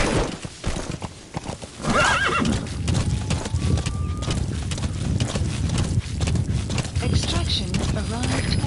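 A horse in Metal Gear Solid V gallops with rapid, loud hoofbeats, breaking into whinnying neighs midway, layered over other busy game sound.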